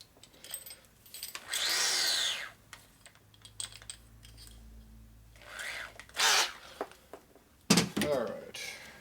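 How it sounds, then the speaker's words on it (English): A drill starts a hole in a motorcycle engine case through a fitting used as a drill jig, whirring up in a few short bursts between quiet handling noises, with people talking nearby. "I'm basically going to use this fitting here as a drill jig to put the drill to get it started."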